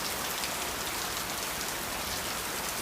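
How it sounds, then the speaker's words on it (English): Heavy rain pouring onto concrete, a dense, steady broadband hiss that holds at a constant loud level throughout, with no voices. "this is heavy rain on concrete"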